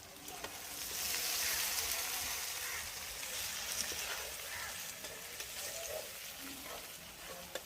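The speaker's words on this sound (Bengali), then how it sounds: "তেল ছেড়ে দিয়েছে, এবার আমি মাছগুলো দিয়ে দেবো।" Fish sizzling in hot oil and spices for a mustard and bottle gourd curry, a steady soft frying hiss with faint crackles and stirring.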